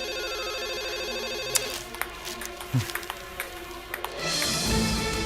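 A telephone rings indoors with a steady electronic tone, followed by scattered clicks and light room noises, with no talking.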